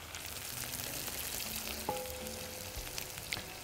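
Egyptian dakka sauce fries in onion-flavored oil in a pan for koshari, a soft, steady sizzle with a few faint clinks and brief utensil knocks, fairly quiet.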